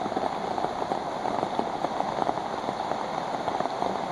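Steady rain patters on an all-fiberglass umbrella held by a hiker on a thru-hike trail, a dense continuous drumming close overhead with no talk.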